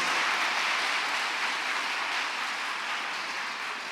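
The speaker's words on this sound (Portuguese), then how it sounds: "Bata palmas" A church prayer-group congregation claps their hands together in a dense, continuous patter that fills the room, steady and fairly loud, easing slightly toward the end.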